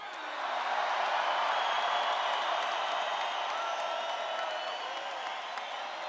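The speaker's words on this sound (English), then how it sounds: "give a great big Pikes Peak welcome to the President of the United" A large crowd at a Keep America Great political rally in Colorado roars with sustained applause, cheering and whoops, a dense continuous wall of noise that holds steady throughout.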